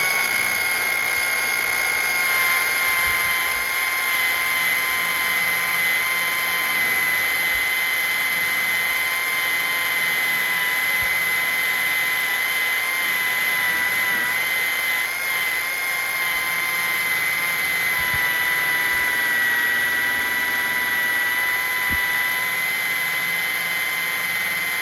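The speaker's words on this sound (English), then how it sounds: "Okay, so I'm gonna run this buffer upside down. It's able to lock, all right, with the trigger down" An electric polishing buffer, trigger locked on and run upside down, whines steadily and loudly with a constant high-pitched motor tone and no breaks for the full stretch.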